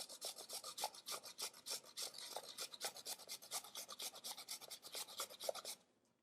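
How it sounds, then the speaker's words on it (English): Ginger being grated back and forth across a non-stick stainless steel grater blade, a steady run of rapid rasping strokes that carries on alone, close and clear, before stopping abruptly. "You can go back and forth, or you can go in circles, however you want to grate."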